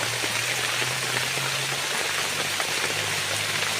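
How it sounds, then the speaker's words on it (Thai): Steady rain falls in a forest, a dense, continuous hiss of drops close by that holds at an even level throughout, with no voices. "ทีนี้ฝนมันตกครับ"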